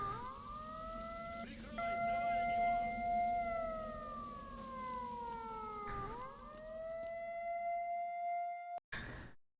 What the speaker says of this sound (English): I'm not dealing with an air raid siren for the next 3 hours